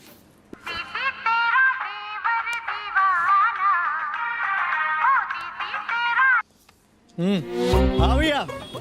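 A melodic electronic phone ringtone plays for several seconds, followed by a short pause and a louder burst of tones.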